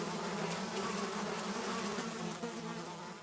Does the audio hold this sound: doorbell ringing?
no